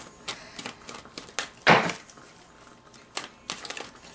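Playing cards are reshuffled by hand in a quiet room, giving brief papery riffles and taps, with one louder burst of flicking in the middle and no voices.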